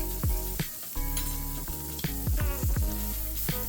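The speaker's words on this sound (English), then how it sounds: "Now remember to keep basting as your steak's searing here." A steak sears in a hot pan while being basted with garlic butter, giving a loud, steady sizzle with repeated clinks and scrapes of the spoon against the pan, close and without speech.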